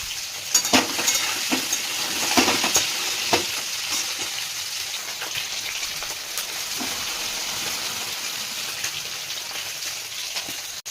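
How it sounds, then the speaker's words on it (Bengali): Fish frying in oil in a kadai, a steady close sizzle with a few louder crackling spits and utensil clinks near the start, no voices. "কড়াই দিয়ে মাছগুলো ভাজতে দিয়ে দেবো"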